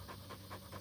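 A dog pants rapidly after hard exertion, a steady rhythmic run of breaths close by and quite soft, with no talking.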